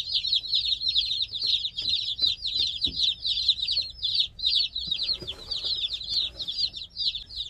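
Two-day-old Cornish game hen chicks in a brooder give a steady stream of high, rapid cheeps, close and continuous, with faint rustling and shuffling underneath.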